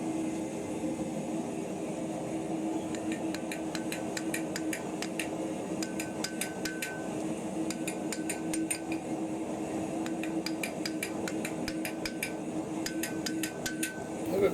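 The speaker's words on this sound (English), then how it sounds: "This is kind of fun to be working on the anvil again." A hammer forges steel stock on an anvil with repeated ringing strikes that come in quick, steady runs with short pauses between them, over a constant background hum.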